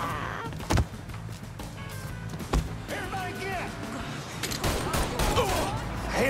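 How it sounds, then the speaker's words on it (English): Gunfire in the Mafia III video game, with several sharp shots spaced through the clip over a busy background, mixed with people speaking. "Shots fired! Shots fired!"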